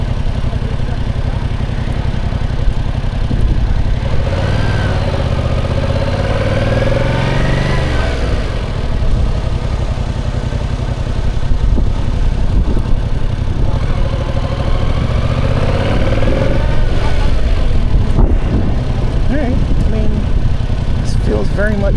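A Yamaha MT-07 motorcycle engine runs steadily in first gear at low speed, a continuous throbbing drone with gentle rises and falls in revs, while a rider talks over it.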